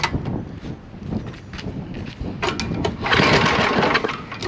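Small single-cylinder engine on a DOA Simplicity snow blower running steadily during carburetor tuning, a close, continuous rough drone that swells louder near the end.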